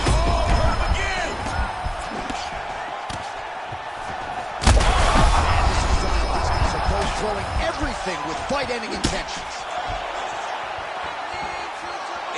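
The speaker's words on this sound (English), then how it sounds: "You hear the crowd react every time they come together" Arena crowd in the UFC 5 fighting game surging and roaring as heavy strikes land in an online ranked championship bout, with sharp impact thuds and a big swell near the middle, under continuous commentary.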